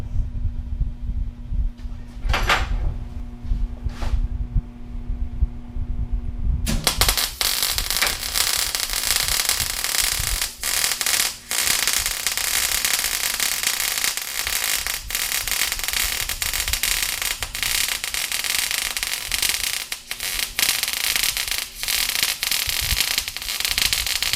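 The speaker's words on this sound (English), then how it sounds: "go ahead and weld it up" An arc welder joins a scrap metal tool cart frame on a flat surface, a loud, steady crackling sizzle starting after a few seconds of quiet shop sounds and continuing to the end.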